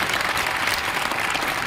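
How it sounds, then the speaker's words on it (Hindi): Dense applause from an audience at a seminar-style academy meeting, steady and close throughout with no speech. "मैं चाहूंगा एक बार सर के लिए जोरदार ताली बजनी चाहिए।"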